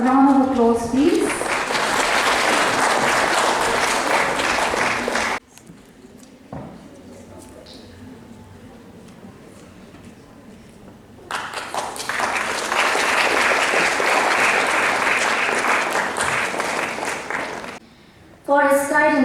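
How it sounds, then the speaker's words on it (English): Audience applause at a school exam results ceremony, loud sustained clapping for about five seconds, a quieter gap with murmuring, then another long burst of clapping and a brief loud return at the end. "A round of applause, please."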